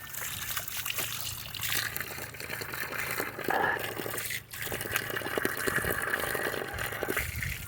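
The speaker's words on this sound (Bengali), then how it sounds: "একটু মুখ ধুয়ে নিই।" Water is splashed onto a face outdoors during a hike from Siliguri toward Darjeeling: continuous close trickling and splattering with a few louder sloshes and one short pause, over a low steady background.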